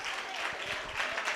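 A church congregation at Living Water Church claps together, a dense, steady wash of applause filling the hall without a break.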